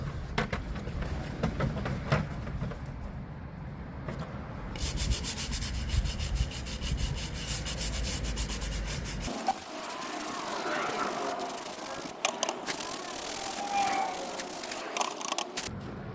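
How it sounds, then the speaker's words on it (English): A wet brush scrubs excess mortar off a brick face in steady, rhythmic rasping strokes, close and continuous, with the texture shifting partway through. "I'm gonna just take some water on a brush and clean this up just a little bit, get some of the excess mortar off of the brick face"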